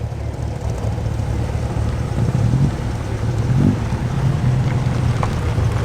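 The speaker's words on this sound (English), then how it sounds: "we have a very modified Saab 96. This one is turbocharged." A heavily modified turbocharged Saab 96 drives past at a transport festival, its engine a steady low rumble that swells slightly as it passes, with wind noise over the microphone throughout.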